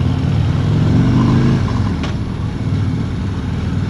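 A 2016 Harley-Davidson Road King V-twin rumbles loud and steady through its exhaust pipes while riding, a deep continuous drone with a brief rise near the start and wind noise over it, no talk.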